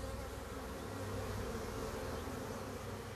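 Honeybees swarm densely around a beehive, making a continuous, close, full-bodied buzz that holds steady the whole time. No voices are heard.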